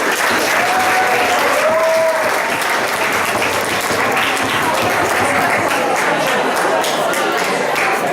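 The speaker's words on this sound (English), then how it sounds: "Let's give them a round of applause." A crowd at a model UN closing ceremony breaks into loud, sustained applause that stays dense and even throughout, with a few brief whoops rising above the clapping.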